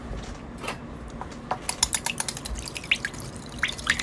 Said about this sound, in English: I am going to whisk it really good, making sure that everything is incorporated.